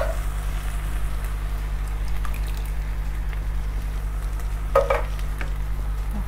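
Meat frying with canned tomato sauce for lasagne is stirred in a pan, giving a steady low sizzle with soft scraping and a brief clink of utensil near the end, no talk.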